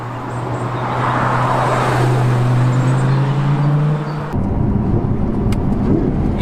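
A £70,000 luxury sports car in sport mode with its exhaust valves open, accelerating hard: a loud, rising engine and exhaust drone, a sudden shift into a rougher, noisier roar, with road noise around it.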